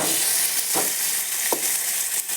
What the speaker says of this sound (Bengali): মোচা রান্না করছি